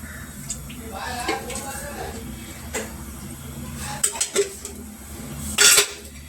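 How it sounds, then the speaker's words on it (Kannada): Oil goes into a pressure cooker for tempering in a home kitchen, with clinks and scrapes of a metal spoon and vessel, a few sharp knocks, and a brief sizzling burst near the end. "ಕಾಳು ಕುದಿಸ್ಕೊಂಡಿದ್ದೀನಲ್ಲ ಫ್ರೆಂಡ್, ಅದೇ ಕುಕ್ಕರಲ್ಲಿ ಮತ್ತೆ ಒಗ್ಗರಣೆ ಹಾಕ್ತಾಯಿದ್ದೀನಿ ನಾನು"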